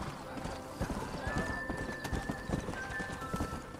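A horse in Red Dead Redemption clip-clops along at a steady rhythmic pace and gives a clear neigh partway through, set against a continuous game soundscape of music and ambience.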